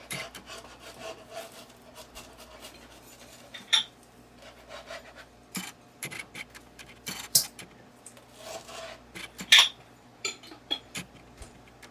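A knife cuts and shapes a basa fish fillet for spicy fried fish, giving quiet rubbing, rasping strokes with a few sharper scrapes and taps against a board, close and fairly soft.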